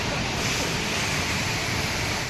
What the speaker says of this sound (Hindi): बालगंगा नदी में पानी पुल के ठीक नीचे से बह रहा है।